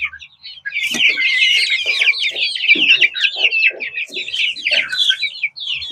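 Around thirty chicks clucking and peeping together, a dense, busy chorus of high chirps with soft lower clucks mixed in, loud and close, starting after a brief quiet moment.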